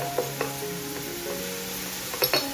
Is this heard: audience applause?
no